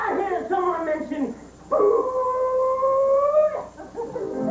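A dog whining and yipping, then letting out a long, drawn-out wavering howl, loud and close, followed by softer whimpers.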